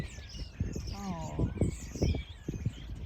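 Birds chirp and call along a wooded walking path, bright repeated tweets rising over steady outdoor ambience while a person speaks briefly nearby.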